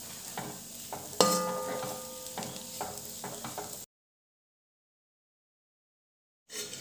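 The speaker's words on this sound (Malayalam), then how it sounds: "ഇനി നമുക്ക് നന്നായിട്ട് ഫ്രൈ ചെയ്തെടുക്കണം." Small prawns fry in a pan with a steady sizzle and occasional stirring scrapes, a sharp clatter near the start, then a long stretch of silence before the frying returns briefly.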